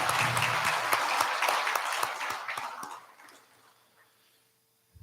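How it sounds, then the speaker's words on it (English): Audience applause for the graduating class of 2022 at a community college graduation ceremony, a dense wash of many hands clapping that fades out over the last seconds. "please join me in applauding them and their accomplishments"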